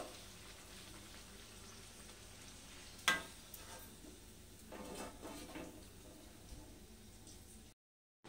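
Chickpea-flour kachori frying in oil, giving a steady soft sizzle throughout with brief louder bursts of crackle, close and fairly quiet, with no talking.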